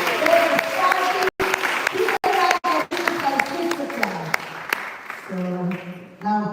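Applause and crowd chatter fill a room at a Sunday feast program, with clapping mixed with voices and brief cheering, close and fairly loud, tapering as talk takes over near the end.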